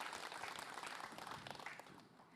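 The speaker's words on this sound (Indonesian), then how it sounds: "Tepuk tangan dulu yuk." Audience at an Islamic women's study gathering from Pinrang, South Sulawesi, clapping together in a dense, steady wash of applause that tapers slightly toward the end, fairly faint and with no voices.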